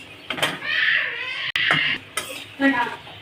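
Fried chillies for a Bengali begun bhorta are lifted from a pan, giving clinks and scrapes of a utensil against the metal, with short clattering bursts and a faint sizzle close by.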